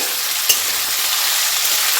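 Potatoes fry in a pan with a loud, steady sizzle throughout and a single brief clink near the start.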